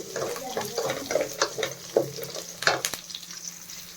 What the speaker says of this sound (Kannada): ಈಗ ಇದೆಲ್ಲ ಸ್ವಲ್ಪ ಚೆನ್ನಾಗಿ ಫ್ರೈ ಆಗಬೇಕು.